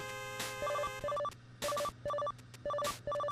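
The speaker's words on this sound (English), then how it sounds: "We got another call. The phone is ringing." Telephone ringing in Mega Man 9: a chirpy electronic ring in short repeated double bursts mixed with game music and sound effects.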